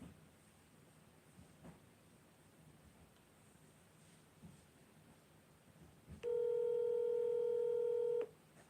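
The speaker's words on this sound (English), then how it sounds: "Call little bro Marlon" A telephone call being dialled, with a single sustained electronic tone of about two seconds rising out of quiet background hiss near the end.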